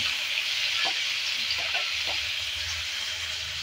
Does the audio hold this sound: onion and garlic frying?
yes